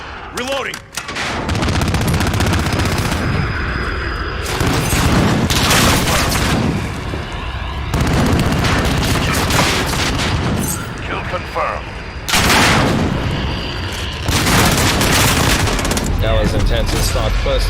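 Dense video-game gunfire from a Harrier VTOL jet roars almost without a break, with rapid bursts, booms and explosions layered together, loud and close, while a player talks over the barrage.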